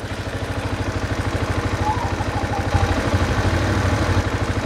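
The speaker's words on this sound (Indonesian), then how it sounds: "Dan perhatikan, dengarkan suara mesinnya baik-baik." A tuned Yamaha Jupiter MX motorcycle engine idles up close with an even, rapid low-pitched putter, swelling slightly in loudness partway through and keeping a steady pulse throughout.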